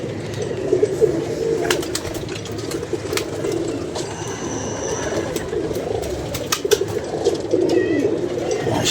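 A loft of pigeons coos in low, rolling murmurs, with several birds overlapping steadily, and a voice speaking briefly over them.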